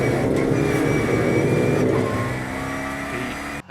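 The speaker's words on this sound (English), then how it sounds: "34 cars making their way towards the first corner." A pack of 34 fifth-generation Renault Clio Cup race cars roars toward the first corner at Portimão, a dense, sustained engine drone with rising revs that thins out and fades near the end.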